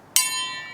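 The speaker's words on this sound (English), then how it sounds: "ring the bell" A single bell is struck once with a sharp attack, then rings on with a bright, sustained metallic tone that slowly decays.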